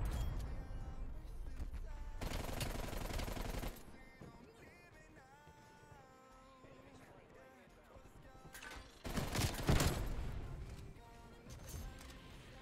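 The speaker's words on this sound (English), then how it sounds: "Oh, it's a sentry gun?" A sentry gun in the Call of Duty: Black Ops Cold War video game rattles off two loud sustained bursts of automatic fire amid game sounds, with a voice talking between them.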